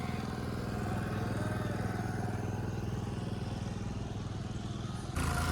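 A small lake boat's outboard motor running on a lake in Kerala, a loud, steady droning buzz heard up close, shifting slightly near the end, with no talk.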